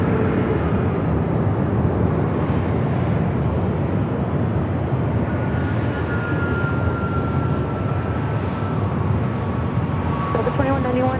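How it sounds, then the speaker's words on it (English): A Delta Airbus A321neo at San Diego airport, a loud steady engine roar sustained throughout with a faint tonal whine and brief voice-like sounds near the end. "Right up next is the Delta A321 Neo."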